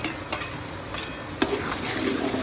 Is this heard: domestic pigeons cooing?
no